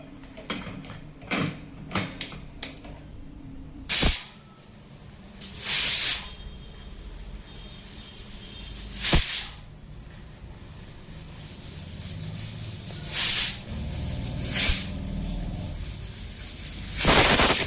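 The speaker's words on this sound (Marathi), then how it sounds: "आता याच्या शिट्ट्या करून घेऊयात." A pressure cooker of urad dal with turmeric and salt lets off repeated sharp bursts of hissing steam, loud and near, spaced every few seconds, with softer rattling and clinking between the releases.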